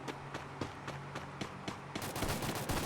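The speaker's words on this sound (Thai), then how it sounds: "SVD ก็เป็นปืนยิงแรงนะยิงแรงยิงดีนะครับ" SVD rifle gunfire in the Free Fire video game: sharp single shots crack at an even pace, then a denser burst of rapid shots follows, with no talk.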